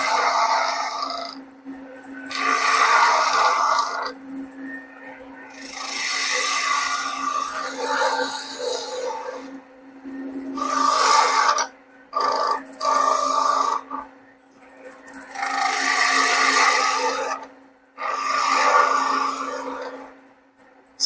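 Lathe tool cutting a cove in a wood workpiece on a woodturning lathe, intermittent scraping and hissing bursts of a few seconds each, separated by short pauses over a faint steady motor hum.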